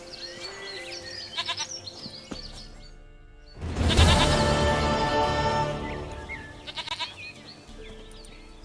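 Goat in the Witcher 3 video game, heard in a few short bleats at moderate distance, followed by a louder, drawn-out bleat rising over soft ambient background.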